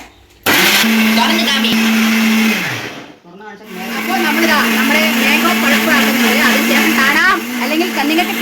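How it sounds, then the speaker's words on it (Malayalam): A mixer grinder blending mango into pulp whirs loudly and steadily, pausing briefly midway before starting up again and running on with a harsh, churning drone. "ഇനി നമുക്കിതൊന്ന് പഴുപ്പാക്കി മിക്സിയിൽ അടിക്കാം"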